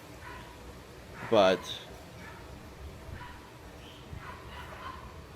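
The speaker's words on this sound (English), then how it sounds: "Excuse the loud dog." A single short dog bark rings out in a quiet room, followed by faint distant chatter and soft background noise.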